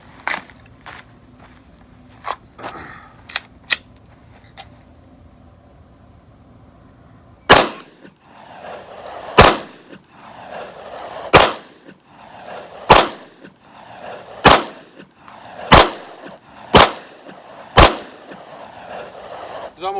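A Glock 19 pistol fires eight sharp, loud shots at a range, spaced roughly one to two seconds apart, preceded by quieter handling clicks and knocks.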